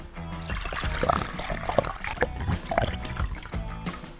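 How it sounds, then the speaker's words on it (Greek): Water is poured into a bowl in a home kitchen while making fried zucchini, a steady nearby trickle and splash with clatter of the bowl, no talking. "Και σε ένα μπολ θα ρίξω 2 λίτρα νερό,"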